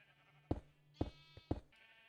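Sheep in Minecraft bleat in short, evenly spaced calls, three clear baas about half a second apart, close and moderately loud over a faint steady background tone.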